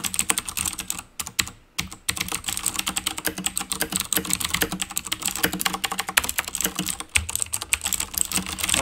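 Fast, close typing on a Razer BlackWidow mechanical keyboard with blue switches gives dense, sharp clicky keystrokes in quick bursts with a few brief pauses.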